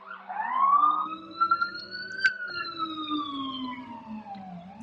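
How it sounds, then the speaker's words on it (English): A police siren wails nearby on a New York City street, its pitch sweeping up and then slowly down, with a brief horn-like blip partway through. "Sorry about the New York City sirens."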